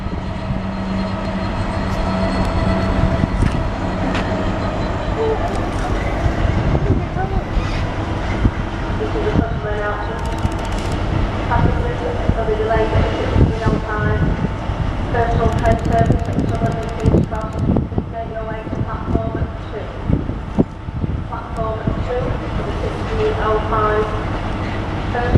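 A freight train rumbles past a rail junction with a steady heavy roar and some clanking throughout. It stays loud and close the whole time, and a voice talks over it now and then.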